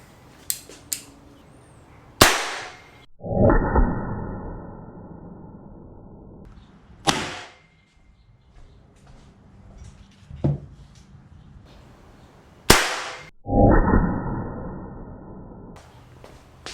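Underwater scuba ringer pistol fires cartridges in the open air, two sharp loud cracks each followed by a short rattling clatter, with smaller mechanical clicks and handling noises between shots.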